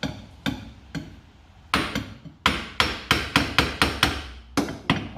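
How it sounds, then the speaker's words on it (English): A hammer drives a bushing into an air shock mount on an 8th-generation Honda Civic, sounding as a series of sharp metallic strikes, slow and spaced at first and then quicker and more regular, close and loud. "Could grind them down, or I can just hit it with a hammer."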